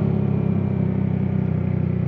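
A fuel-injected Yamaha Mio motorcycle with a bored-up engine revs hard and close, giving a loud, buzzy, steady drone with rapid pulsing, alone with no talk.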